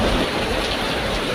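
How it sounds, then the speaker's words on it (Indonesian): Heavy, steady rain pours down in a dense, unbroken roar, with a low rumble underneath that suggests distant thunder, loud and close throughout. "Hujan dari tadi nih, gede banget, nggak berhenti-berhenti."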